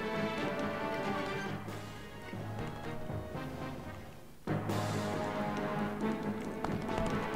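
Horse hooves clip-clop in the video game Fire Emblem: Path of Radiance, a steady repeating patter over continuous game music, briefly dropping out before resuming.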